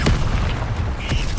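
Incendio fire spell cast in Hogwarts Legacy, a short booming whoosh of flame with a low rumbling burst and a brief crackling pop near the end.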